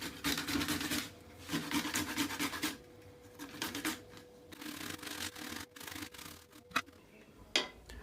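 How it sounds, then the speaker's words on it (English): Fresh ginger root grated by hand for Kenyan chai, a series of rough rasping strokes in uneven bursts, close and fairly quiet, with short pauses and a couple of sharp clicks toward the end. "proceed towards grating your ginger"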